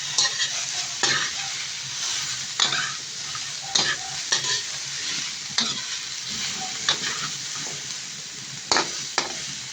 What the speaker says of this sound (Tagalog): Lagay na natin itong tokwa na maluto.